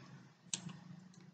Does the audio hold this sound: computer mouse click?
yes